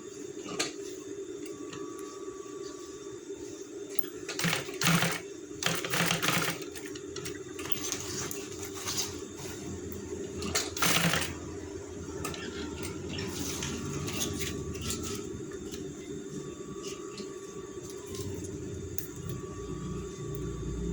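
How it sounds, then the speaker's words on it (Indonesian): A sewing machine stitches in a replacement zipper on trousers, running as a steady, fairly quiet mechanical hum, with a few louder clattering bursts along the way. "Kita jahit dari atas dulu."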